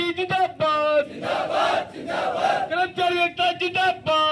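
A crowd of striking municipal council workers in Haryana chants slogans at a sit-in protest, a leader's voice calling out lines and many voices answering in loud, rhythmic bursts.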